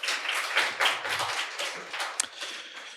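Audience at a technical briefing session applauding, a dense patter of many hands clapping together for about three seconds, moderately loud and fading slightly toward the end.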